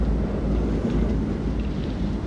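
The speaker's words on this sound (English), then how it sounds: "Find out how long the storm is gonna last." Storm wind buffets a boat at sea in the horror game Man of Medan, a steady, loud, low roaring rush with deep rumble underneath and no breaks.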